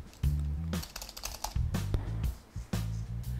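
Quick bursts of keystrokes on a computer keyboard as text is typed, irregular clusters of clicks with short pauses between, close and clear with no talking.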